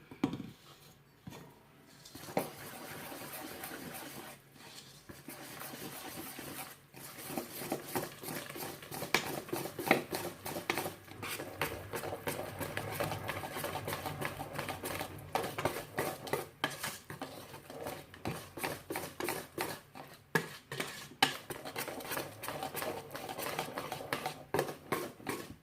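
A utensil stirs and scrapes orange cake batter in a bowl, steady clinking and tapping against the sides with irregular rhythm, fairly quiet and close, no voice.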